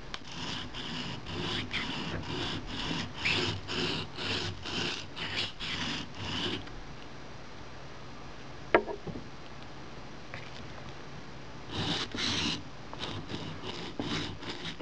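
A knife is drawn over the fine side of a sharpening stone in a quick, regular series of rasping strokes, pausing for several seconds with faint handling noise before a few more strokes resume.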